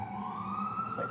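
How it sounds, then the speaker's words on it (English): Police sirens pass outside on a city street, one steady rising wail holding faintly in the distance under traffic rumble, with a brief burst of higher tone near the end. "Let's wait for the sirens"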